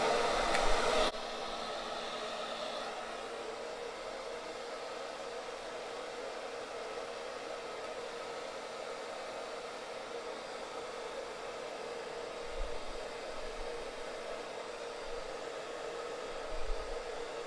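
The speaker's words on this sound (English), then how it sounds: "Now switch everything over to cold to lock it into place, keeping it at the same fan speed." Hair dryer blowing on the cold setting over a beard, a steady, close whooshing roar that holds the same fan speed throughout after a brief louder burst at the start.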